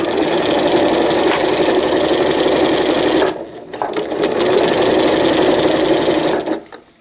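Sewing machine fitted with a walking foot stitching fabric, a loud, steady mechanical whirring that runs continuously, pauses briefly midway, resumes and then winds down at the end.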